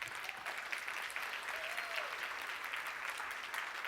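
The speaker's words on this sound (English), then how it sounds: "Give her a round of applause." An audience at a charity summit session applauds for a named attendee at the back of the room. The clapping is steady and fairly faint, with a continuous wash of hands and no clear voices.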